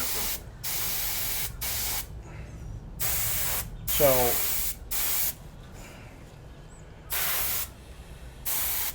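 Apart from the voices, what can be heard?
airbrush spraying paint finish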